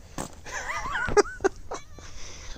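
A stray cat meows close by in a few drawn-out, wavering cries, with short sharper sounds and rustling around them.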